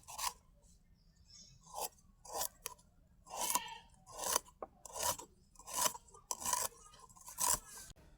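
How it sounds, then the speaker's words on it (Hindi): A knife cuts through a washed spiny gourd (khaksi) in a rustic home kitchen, giving a steady run of about a dozen crisp slicing and scraping strokes, close and isolated with no talk. "खक्सी के धोए लीली अब काटत थे।"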